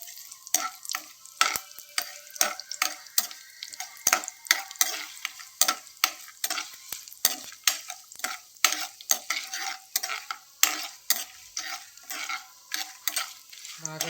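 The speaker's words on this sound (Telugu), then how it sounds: "ఇవి మసాలా దినుసులన్నీ వేసుకోవాలండి. ఫ్రై చేసుకోవాలండి." Whole spices frying in a pan for vegetable pulao, a soft sizzle under a brisk, repeated scraping and clinking of a spoon stirring against the metal, close and rhythmic throughout.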